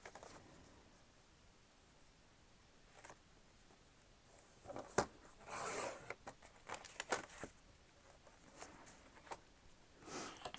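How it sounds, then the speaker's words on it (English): Scissors cut a Christmas card along its branding strip for a card book project: faint, scratchy rasping and rustling strokes, close but quiet, with irregular bursts of paper noise. "This one has a branding strip, so I'll cut it this way."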